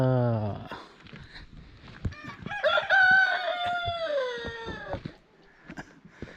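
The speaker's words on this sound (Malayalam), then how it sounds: "ഇത് പൂവൻ കോയോ പൂവൻ കോയോ" A rooster crows once amid background voices and clatter on the Everest Base Camp trek between Paiya and Phakding, its drawn-out call rising then trailing off at moderate distance.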